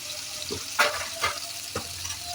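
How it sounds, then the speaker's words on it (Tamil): Onions with salt frying in a pan for a mutton pepper gravy, an even sizzle punctuated by a few sharp stirring scrapes close by, with no talking. "வெங்காயம் வதங்கிறதுக்கு கொஞ்சம் உப்பு போட போறேங்க"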